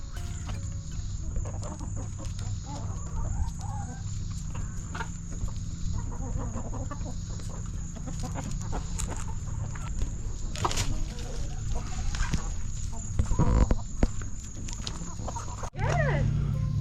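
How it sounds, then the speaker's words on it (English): Hens cluck and chatter steadily in a backyard flock, with constant farmyard bird noise filling the background at moderate volume and occasional louder nearby calls and rustling. "What are all these hens doing over here?"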